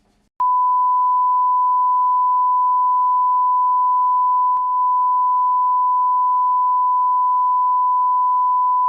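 A censor bleep: one continuous, loud, pure mid-pitched tone that starts abruptly and holds for over eight seconds with a single tiny dip partway.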